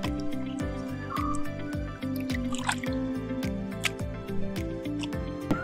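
Water drips and splashes steadily while squid is washed in a Kerala kitchen, making a rapid, evenly spaced train of close, bright drops with faint clinks and rustles underneath.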